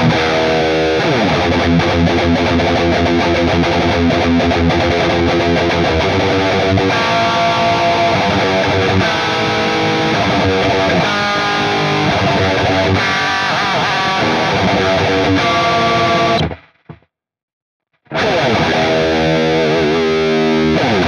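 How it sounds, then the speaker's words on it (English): A heavily distorted electric guitar plays continuously through a Neural DSP John Petrucci Archetype amp simulation, dense and loud, before a brief full cutout near the end and then a return. "Let's listen to how these guitars sound."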